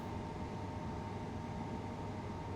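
Class 377/3 electric train in Train Sim World 6 running under full power, a steady broadband rumble with a droning motor tone, constant and unbroken throughout.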